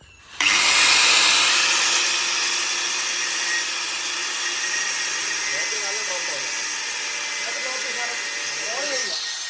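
A power cutting tool slices a car side skirt to length with a loud, continuous, high whine that lasts the whole stretch after an abrupt start, heard close, with faint voices underneath.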